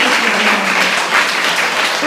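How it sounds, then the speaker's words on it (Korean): A church congregation applauds a women's choir at a Baptist world day of prayer service, dense continuous clapping, fairly loud and close, with a faint voice mixed in. "그래서 우리 하여튼 합창단 너무 수고하셨는데 박수 해주시기"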